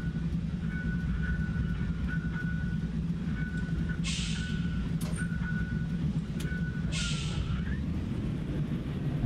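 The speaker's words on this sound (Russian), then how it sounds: "Разваливается уже просто автобус." A LiAZ-677M bus drives and rattles in the OMSI 2 simulator: a constant low engine drone with a thin, recurring tone and two sharp hissing bursts partway through.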